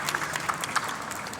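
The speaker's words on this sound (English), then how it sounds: "this is a great round of applause for this cosplay" Audience at a Q&A panel for the cast of X-Men: The Animated Series and X-Men '97 applauds a cosplayer, a brief steady patter of clapping at moderate distance with no talk over it.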